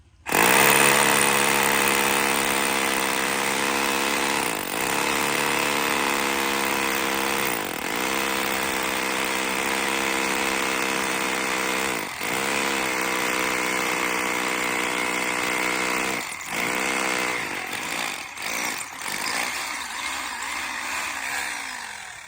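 A loud power tool drills holes for a bamboo bridge being built across a river, running with a steady engine-like whine close by and dipping briefly as it bites into the wood.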